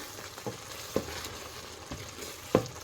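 Eggs sizzle and fry softly in a pan as they are spread over menemen, with a few light stirring taps and scrapes over the quiet hiss.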